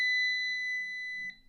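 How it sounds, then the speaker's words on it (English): A multimeter on its continuity setting gives a steady electronic beep with its probes touching two connected points. The tone is clean, sustained and fairly quiet, holding for over a second before a brief blip near the end, with no talk. "and if it beeps, it means there is connection between these 2 points."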